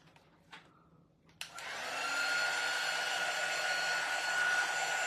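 A hair dryer switches on and blows steadily over a chalk-painted wooden sign, a loud continuous whoosh with a whine after a couple of small knocks.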